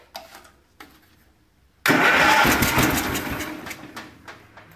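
A small carbureted engine sputters a few times, then catches at full throttle and runs loud and steady, roaring close by with a slight waver as it settles.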